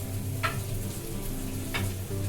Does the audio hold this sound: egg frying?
yes